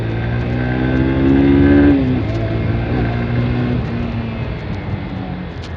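A Haojue Chopper Road 150 motorcycle engine revs up loudly to a peak, drops sharply, then settles into a lower rumbling idle with uneven throttle blips, close by.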